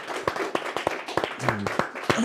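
An audience claps briefly and unevenly, sharp hand claps rising over light chatter in a studio setting.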